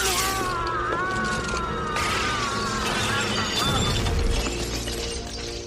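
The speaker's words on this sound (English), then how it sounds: "the glass just shatters and he falls through" A glass pane shatters as a Klingon falls through it in a Star Trek: The Next Generation scene, the crash buried in a dense, loud orchestral score.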